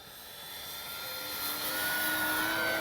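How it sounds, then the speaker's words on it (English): A 1600 mm Flightline P-38 RC model warbird makes a low pass with its landing gear down, the steady engine whine swelling gradually as it approaches. "I'm gonna bring her by with the gear down."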